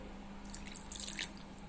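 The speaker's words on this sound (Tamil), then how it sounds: "ஒரு அரை கப்பு தண்ணி ஊற்றிக்கலாம்" Water is poured softly into a cup, a brief, quiet trickle and splash lasting about a second.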